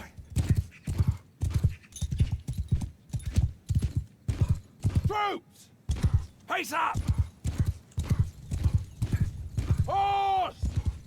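Cavalry horses gallop in the video game Mount & Blade 2: Bannerlord, their hooves pounding in a steady, rhythmic drumming, with a few whinnies rising over it and someone speaking briefly.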